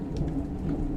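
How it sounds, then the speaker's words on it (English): A thunderstorm gives a low, continuous rumble of nearby thunder mixed with heavy rain, loud and dense throughout the short stretch. "That thunder is, it's getting close."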